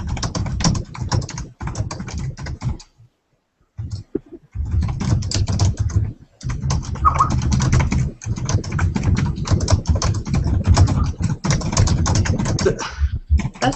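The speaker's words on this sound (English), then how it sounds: "Typing." Fast clattering keystrokes on a computer keyboard, near and steady, broken by a few short pauses, with no talk over the typing.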